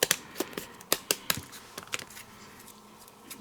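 Paper being cut into pieces for a handmade card, heard as a quick cluster of crisp snips and clicks up close that thins out into a few quieter cuts, with no talking.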